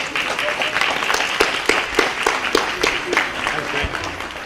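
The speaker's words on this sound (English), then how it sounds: "If we could have a round of applause." Audience at a City & State education forum applauding the panelists, steady dense clapping throughout with some voices mixed in.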